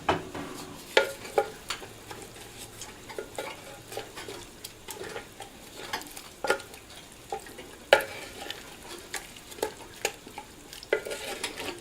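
A spoon scraping and clinking against a pot while ground coriander, salt, turmeric and red chili are stirred into meat, with a faint sizzle underneath and steady, irregular knocks.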